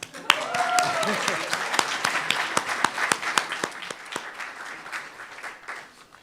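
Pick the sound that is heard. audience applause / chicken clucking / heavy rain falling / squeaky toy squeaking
audience applause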